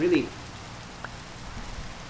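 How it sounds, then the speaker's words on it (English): Rain falls in the Minecraft video game as a soft, even patter, a quiet continuous hiss with a brief faint tone at the start. "Well, what else am I gonna do while it's raining?"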